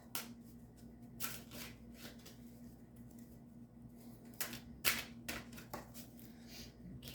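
Tarot cards shuffled by hand during a reading, soft riffling bursts and light card slaps at irregular intervals, quiet and close over a faint steady hum.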